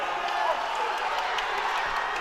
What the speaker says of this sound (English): Big roar from the crowd as Arthur DeVillers picks that puck up.